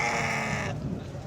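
A sheep bleating at a promotional sheep sale in Mali, a single loud, wavering bleat lasting under a second, followed by low background noise.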